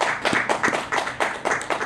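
A church congregation claps together during a New Year worship service, several rhythmic bursts of unison clapping that swell and fade, fairly close and loud, with no talk over it.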